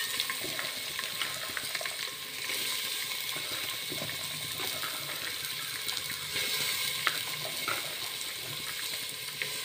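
Chopped carrot, onion, drumstick pieces and soaked chana dal frying in a pan, a soft steady sizzle with occasional stirring scrapes, fairly quiet and without talk.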